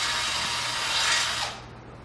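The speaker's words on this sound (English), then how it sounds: "go 4 spokes either way to drill a new 7/16 or an 11 millimeter hole" A drill bores out a hole in a motorcycle wheel rim, a loud grinding whir for about a second and a half that then winds down.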